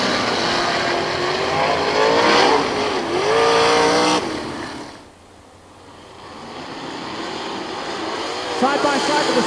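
Race cars, including a Mopar stock car, roar loudly around an oval speedway during a restart, with engine noise swelling and dipping as the pack passes and a commentator talks over the din.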